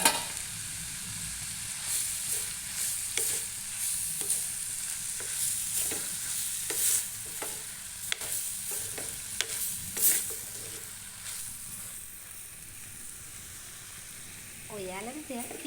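Vegetables and tomatoes sizzle and crackle as they are stir-fried in a pan, with repeated bursts of scraping and stirring and a steady frying hiss. Toward the end a faint voice is heard.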